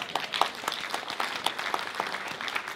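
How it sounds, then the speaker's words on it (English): Audience applause at a post-screening Q&A with a film director and actress, a dense, steady patter of many hands clapping together, moderately loud and continuous throughout with no talk over it. "Round of applause for you. And round of applause."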